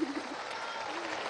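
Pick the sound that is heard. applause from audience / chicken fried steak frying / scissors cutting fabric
applause from audience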